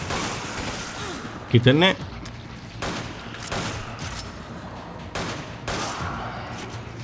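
Gunfire from the video game Resident Evil 5 comes as a sharp, loud burst of shots, then quieter scattered blasts and game ambience while someone speaks briefly.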